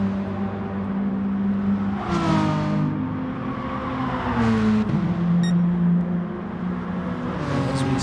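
Race cars circling the Alsace track in Gran Turismo Sport, engines revving loud and close with rising and falling pitch as several cars pass by in quick succession, no talking.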